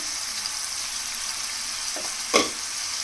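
Bottle gourd curry seasoned with salt and turmeric gets mixed in a pan, giving a steady low sizzle with one sharp scrape of the spoon near the end.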